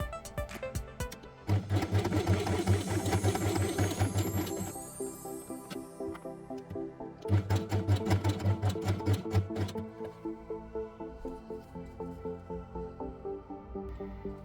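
A sewing machine stitches felt with green thread, running in steady rhythmic bursts of rapid mechanical chatter that pause and then start again. The machine is close and moderately loud, and no one speaks.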